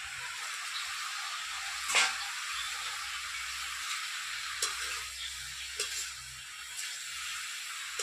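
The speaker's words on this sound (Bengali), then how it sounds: "এখন লাউতে শুধু হলুদ দিয়ে আমি কষতে থাকবো।" Bottle gourd is sautéed with turmeric in a pan, a steady soft sizzle with occasional stirring scrapes and light clinks, close and continuous.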